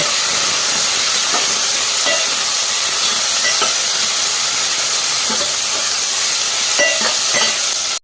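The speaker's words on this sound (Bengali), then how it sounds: "পেঁয়াজের টুকরো এগুলো দিয়ে আমি একটু ভাজব" Chopped onion fries in a pan with a loud, continuous hiss and sizzle, a few faint stirring scrapes underneath, and no talking.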